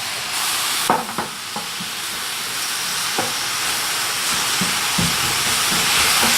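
Egg fried rice being stir-fried in a pan, a steady hiss of frying with steam under a few scattered scrapes and knocks of the spatula, fairly close and alone.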